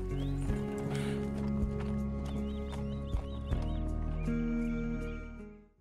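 Horse hooves clip-clop in the video game Red Dead Redemption 2 as a rider crosses a forest. The steady hoofbeats sit under a continuous orchestral music bed, and a faint whinny may be heard.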